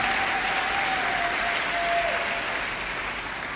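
Church congregation applauding during a worship service, dense sustained clapping from a large crowd that fills the room evenly and fades slightly at the end.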